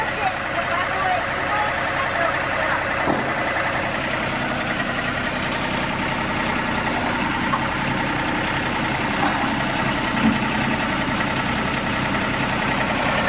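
A tractor engine rumbles steadily and loudly at idle close by, working in a native garden with a new attachment. The drone is continuous and unbroken from start to finish.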